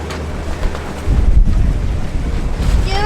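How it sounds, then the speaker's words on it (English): Strong wind buffets the microphone outdoors, a loud rumbling roar that surges and gusts continuously with no talking. "It's so windy."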